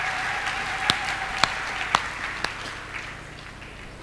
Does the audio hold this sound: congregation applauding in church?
yes